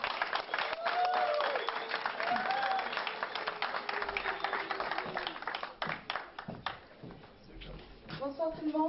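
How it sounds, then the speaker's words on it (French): Audience at a university evening event applauds as the host brings a speaker onstage, clapping scattered and uneven under amplified voices, with talk continuing over the hall throughout. "notre présidente, mademoiselle Amel, sous vos applaudissements s'il vous plaît."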